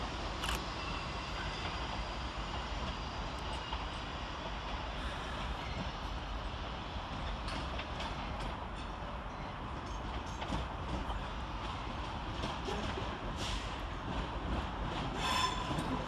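A Transpennine Express Class 397 electric train moving through Manchester Piccadilly station, a steady rumbling roll with faint rail clicks and squeals, continuous and moderately close, with no talking.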